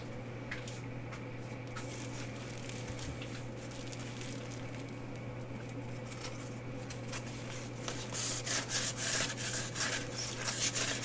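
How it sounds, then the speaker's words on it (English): Light sanding of a finished resin painting, a steady soft rubbing scratch over a low constant hum, growing louder and more rhythmic in brisk strokes toward the end. "I'm just going to give it just a light sand here."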